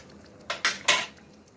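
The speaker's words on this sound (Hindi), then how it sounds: "अब मैं इसमें ये मसाला मिलाती हूँ" A spoon scrapes and knocks against a pot while masala is stirred into Hyderabadi nahari paya, three quick metallic clanks close by in a quiet kitchen.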